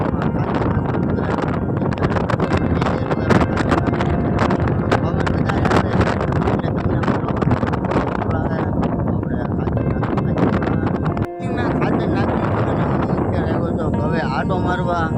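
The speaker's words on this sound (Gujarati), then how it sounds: "પવન થોડોક વધારે આવે એટલે તમને મારો અવાજ થોડોક ઓછો સંભળાય" Strong wind gusts across an open farm field, a steady loud rushing roar buffeting the microphone throughout, with a brief dip near the end; someone talks over it.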